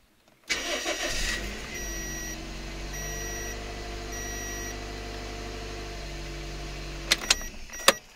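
A Toyota Echo engine cranks and catches, then settles into a steady idle after its low-idle stall fault was repaired; the idle hum runs loud and even, with a faint chime repeating and a few sharp clicks near the end.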